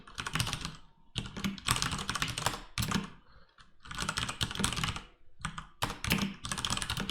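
Fingers type on a computer keyboard while someone codes a Bomberman game in TypeScript. The keys clatter close and loud in rapid bursts, separated by short pauses.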